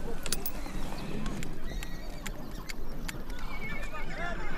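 A Mongolian horse being ridden for the first time, with neighing and hoof clatter over steady outdoor background noise; sharp whinny-like bursts recur through a dense, continuous bed of sound.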